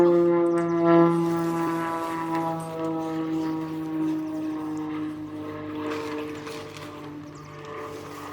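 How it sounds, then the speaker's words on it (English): A propeller plane drones steadily overhead above a grassy outdoor spot, its engine hum holding a constant pitch before slowly fading a little toward the end. "Now that the airplane has gone away."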